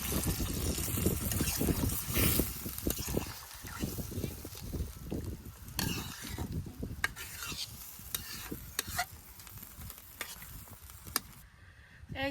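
Chicken curry in a pan with broth added is stirred vigorously, with repeated scraping strokes over a continuous close sizzle and spatter throughout, briefly dropping out near the end.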